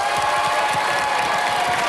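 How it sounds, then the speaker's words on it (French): A French television game-show studio audience applauds for the white team, a dense, steady burst of clapping mixed with crowd noise that runs continuously throughout. "Quelques applaudissements pour l'équipe blanche, s'il vous plaît."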